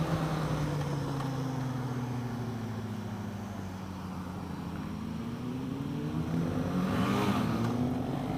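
A 2016 BMW F 800 GS Adventure motorcycle rides along, its engine drone steady beneath rushing wind noise. Engine pitch falls and rises as it downshifts, then revs up toward the end.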